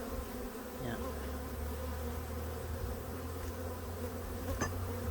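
Honey bees hum in a continuous, dense drone during a late-season beehive inspection, with the occasional bee passing close by. The buzzing is steady and fairly faint, and nobody speaks.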